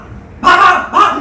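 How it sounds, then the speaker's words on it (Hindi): A dog gives two loud, close barks in quick succession after a moment of near quiet. "क्या ये कुत्ता इसी तरह रात भर चिल्लाता रहता है?"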